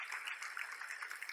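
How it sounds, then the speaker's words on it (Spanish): Brief, soft applause from a church congregation during a Spanish-language sermon on Christ's second coming, a steady patter of many hands with no voices over it. "Démosle un fuerte aplauso al Señor."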